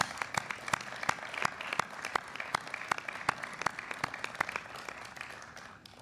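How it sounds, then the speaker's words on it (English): An audience at the United States Capitol applauds the families of Capitol Police officers, steady scattered clapping heard at moderate distance and fairly faint, with no talk over it. "we should clap for the families."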